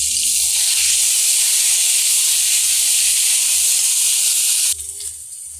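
Turmeric with ginger, cumin and chili paste sautés in a pan for a Bengali boal fish curry. It gives a steady, loud hiss and sizzle that drops suddenly near the end, with no talking.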